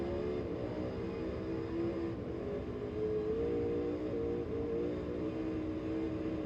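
A race car engine at Bristol holds a steady, loud, continuous drone with harmonic bands that waver slightly as the throttle is modulated through a turn, heard alone without talk.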